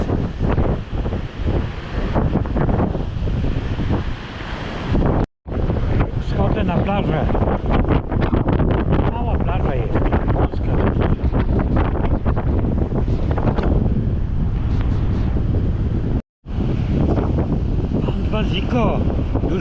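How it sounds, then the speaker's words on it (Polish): Rough Baltic Sea waves crash on the shore under strong wind, a loud, continuous roar of surf with heavy wind buffeting on the microphone and two brief dropouts. "Zobaczcie jak Bałtyk, jaki Bałtyk szalony."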